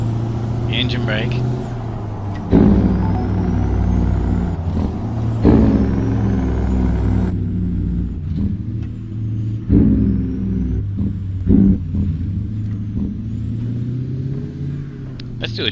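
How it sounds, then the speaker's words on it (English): A truck engine brake works while driving, a deep loud rumbling drone that pulses and shifts in pitch as the engine slows and revs, with someone talking over it at times. "Engine brake."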